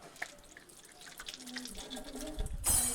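Tap water runs while hands are washed at home before a meal, starting as faint dripping and trickling, then swelling into a louder steady splashing stream near the end, with soft background voices.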